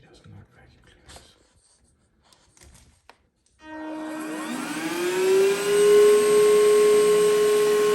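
A DN DENNOV 9000Pa cordless handheld vacuum cleaner switches on after some quiet handling noises, then runs with a steady high-pitched motor whine and airflow rush that rises slightly in pitch, loud and close.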